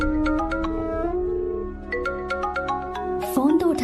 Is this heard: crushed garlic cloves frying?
no